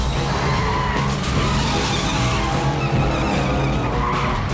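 A cartoon car swings around to give chase, its tires skidding in a loud, sustained screech with engine roar underneath, close and continuous throughout.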